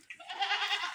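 A goat kept inside a livestock shed on a Punjab village farm gives a single wavering bleat, moderately loud and fairly near, with no talking.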